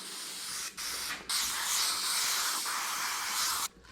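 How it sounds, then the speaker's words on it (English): Loud hissing bursts of aerosol spray adhesive, with a few short pauses between long sprays, close and steady. "We're going to spray the back of this really,"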